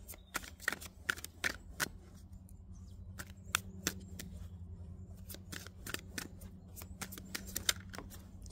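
Tarot cards are handled and shuffled up close, giving crisp flicking clicks and soft slides in irregular bursts, with no talking.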